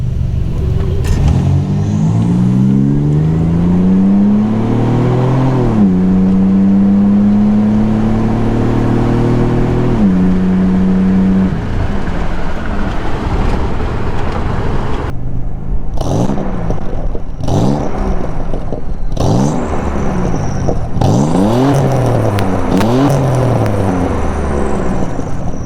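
A Nissan Z fitted with a new catback exhaust revs up in a series of rising and falling pulls, then drives off with a loud, rumbling tone and repeated throttle blips.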